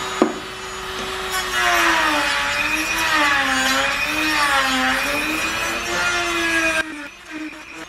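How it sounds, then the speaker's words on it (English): A Dremel rotary tool files down the inside of a plastic train air horn housing with a loud, continuous whine that wavers in pitch as it bites into the plastic, then cuts off near the end. "take a Dremel and file down as much of this in here as possible"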